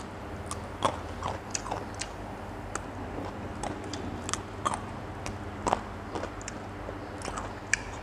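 A person chewing steamed fresh bamboo shoot cooked with pork, eaten with roasted wan fai flowers, with close, soft crunching and biting ticks repeating irregularly over a quiet background.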